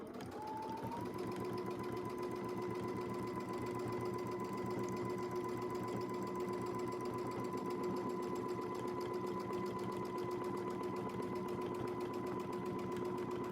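Sewing machine running steadily during free-motion quilting, a continuous fast mechanical hum and buzz that stays even throughout at moderate volume, no talking.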